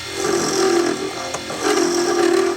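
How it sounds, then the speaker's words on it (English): A Jet midi woodworking lathe runs steadily with a continuous motor hum and a strong mid-range whine, briefly dipping near the middle before resuming at the same level, close and alone. "This is a woodworking lathe, a jet MIDI lathe."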